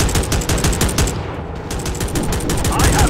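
Aircraft machine guns firing in a WW2 dogfight video game, heard as loud, continuous rapid bursts of gunfire close up, with a brief pause midway before the firing resumes, dense and unbroken.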